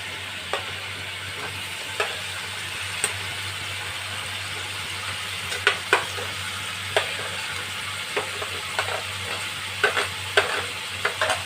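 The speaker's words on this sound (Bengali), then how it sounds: "এরপর এটার মধ্যে আমি একে একে ভেজে রাখা আলু পটল কুমড়ো সব দিয়ে দেবো" Fried potato, pointed gourd and pumpkin go into a pan for kumror ghonto: soft frying sizzle under a steady low hum, broken by a series of sharp scraping knocks as a spoon stirs the vegetables.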